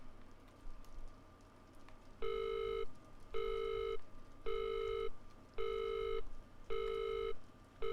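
A telephone rings inside a house in the horror video game Visage, five evenly spaced electronic trills that stand out clearly over a faint ambient hum.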